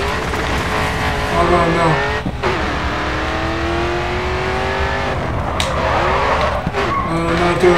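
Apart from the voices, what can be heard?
race car drifting and skidding in video game Grid 2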